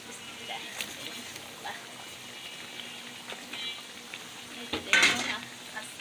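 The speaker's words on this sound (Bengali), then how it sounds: "এই যে শাক ভাজি করবো" Leafy greens fry in a pan in a home kitchen while preparing an iftar meal, with soft sizzling, scraping and clinking of a utensil against the pan, and a louder clatter near the end.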